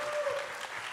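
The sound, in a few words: applause for the cast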